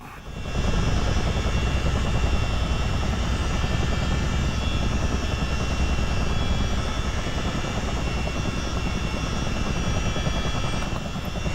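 Simulated US Army Chinook helicopter in Microsoft Flight Simulator, a loud, steady rotor and engine drone with a low rhythmic beating, unbroken for the whole stretch and with no voices.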